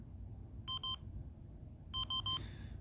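A Pi-star hotspot radio gives two quick double beeps about a second apart, each pair of short, clean electronic tones over a low background hum, with no talking.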